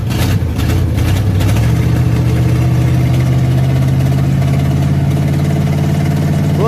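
Cold engine idling just after firing up on a swapped battery, slightly flooded, running loud and close with a steady low drone that settles into an even rhythm, no voices.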